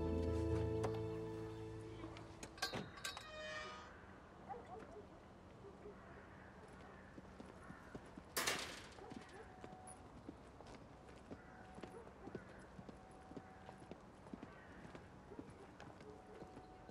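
Horse hooves clip-clop at a riding pace, a steady run of sharp clicks under a busy outdoor background with a few louder bumps and a brief burst of noise midway.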